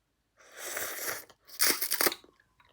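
Mild Jin Ramen cup noodles being eaten, two bursts of close crunchy chewing and slurping separated by a short pause, with no talking.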